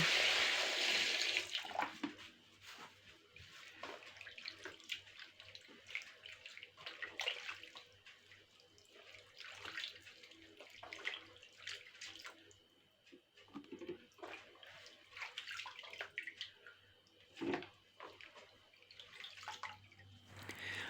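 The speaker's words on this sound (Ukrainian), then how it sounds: "Виноград заливаю водою і гарненько його промиваю." Water pours over grapes in a bucket as they are rinsed, making a steady, fairly quiet sloshing and splashing with no talk.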